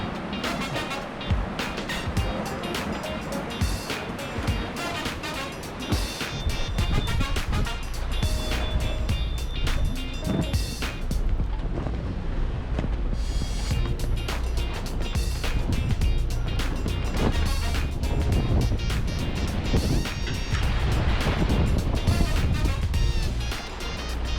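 A sailboat swinging hard through a crash tack during a man overboard rescue drill, with steady wind and water rush, flapping sail and rigging noise, and thumps and clatter on deck throughout, occasional voices in the background.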